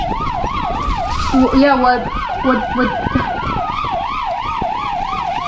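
A European ambulance siren wails in a fast, repeating up-and-down pattern, loud and close, while someone speaks briefly over it alongside traffic noise.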